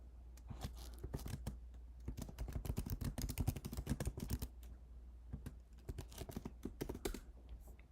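Rapid typing on a computer keyboard, dense bursts of close key clicks with short pauses, fairly quiet and with no voices.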